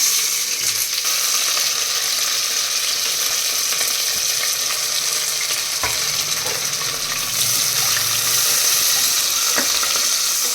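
Onions and green chillies fry in a pan for prawn biryani, a continuous loud sizzle with occasional clinks and scrapes of a spoon stirring, no voices present.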